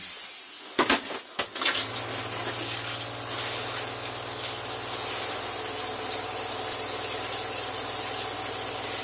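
Water gushes steadily from an RV shower tap after a few brief knocks, flushing bleach from the fresh water tank, a constant hissing spray with a low hum beneath it.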